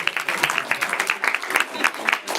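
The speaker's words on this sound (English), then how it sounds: "But clap for yourself for all those." A studio audience at a live game-show event claps for themselves, a dense, steady wash of many hands close by, with brief bursts of voices mixed into the applause.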